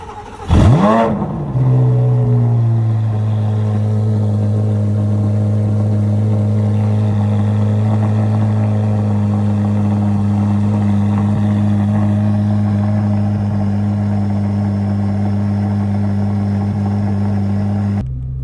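Corvette C8 Z06 with the Z07 package cold-starting early in the morning: a sharp starter crank and rev flare, then it settles into a loud, steady, even idle that holds to the end.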